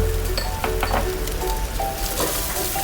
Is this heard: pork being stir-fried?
yes